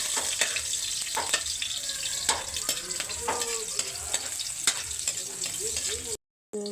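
Sliced onions frying in a pan, a steady close sizzle with scattered crackles and pops running throughout, briefly dropping out near the end before resuming.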